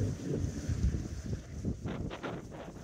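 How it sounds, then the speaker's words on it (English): Cold easterly wind blowing across Anglesey rocks at night, a steady low rumbling buffet of wind noise on the microphone, fairly faint and continuous with no voices. "That easterly wind is making the wind chill even colder."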